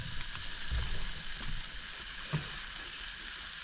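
A pan heating and sizzling on the stove while coffee is being made, a steady, faint frying hiss that continues throughout with occasional small pops.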